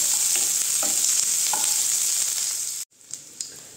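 Onions frying with cumin in a pan for a Bengali aloo dhaniya dish, a loud steady sizzle with spatula scrapes that drops off suddenly, followed by a few quieter stirring knocks.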